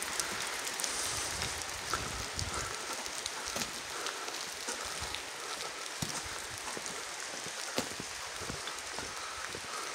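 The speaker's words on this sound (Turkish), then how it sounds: "Köyümüzde şu an sağanak bir şekilde yağmur yağıyor" Steady, dense village downpour hisses continuously with scattered louder drops pattering on nearby surfaces; no voices, just an even wash of heavy rain throughout.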